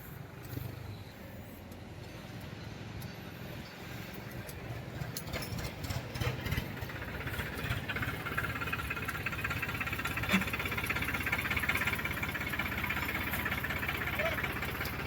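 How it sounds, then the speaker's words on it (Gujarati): Tractor engine idling at a diesel pump, a steady low rumble growing slightly louder over time, with voices talking nearby. "મિત્ર આપણો ટ્રેક્ટર આવી ગયું છે"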